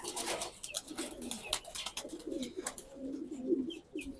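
Racing pigeon hens in a backyard loft coo softly and repeatedly at close range, their low throaty calls overlapping with occasional wing flutters and light rustling.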